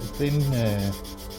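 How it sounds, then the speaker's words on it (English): Sandpaper rubbed over a part of an FX Impact .22 caliber air rifle magazine to make a flat spot: one short, close rasping stroke under a second long, with a slight squeak, heard alone. "I take some sandpaper and make a flat spot"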